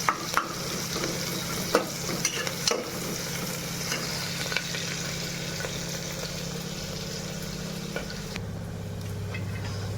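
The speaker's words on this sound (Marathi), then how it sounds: "कसं काय झालं तरी कांदा भाजायला लागले." Onions fry in oil in a pan over a gas flame with a steady, close sizzle. A few sharp clicks of stirring sound near the start, and no one speaks.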